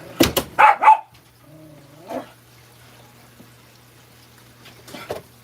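A pet dog in a home kitchen, where breakfast is being cooked, gives a few quick, fairly close barks near the start, followed by one softer bark and a faint whine. A low hum continues under the rest.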